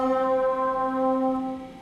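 A sustained Maelstrom grain table synthesizer preset tone with bright stacked harmonics holding one chord, gently swelling then fading after under two seconds.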